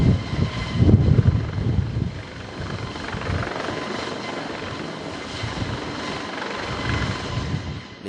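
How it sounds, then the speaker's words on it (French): A helicopter's rotor thumps and whirs over a stranded cargo ship at Les Sables d'Olonne, louder at first and then settling into a steady, moderately distant drone. "des hélicoptères passent"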